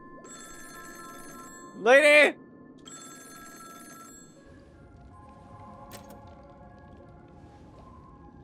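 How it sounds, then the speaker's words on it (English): Telephone ringing in the video game Honkai: Star Rail, a steady electronic ring running for several seconds, briefly interrupted by a loud shout, then fading into quieter game ambience. "Pick up the phone!"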